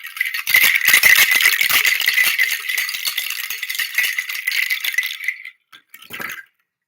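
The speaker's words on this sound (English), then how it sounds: "connect with your energy through the sound of my rattle" A handheld rattle shaken steadily for an energy healing session, a dense continuous shaking lasting over five seconds, close and fairly loud, then a brief final burst after a pause; no talking.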